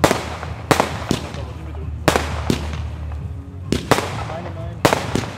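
Shots from a 50-shot firework battery bursting in sharp, loud cracks at irregular intervals, each followed by crackling decay, with voices talking in between.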